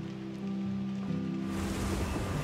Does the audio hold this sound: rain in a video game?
yes